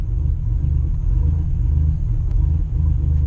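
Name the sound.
car engine surging and cutting out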